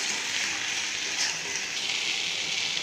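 Chicken for tengri soup sautéing in a partly covered pan over low heat, a steady soft sizzle hissing throughout with no talk.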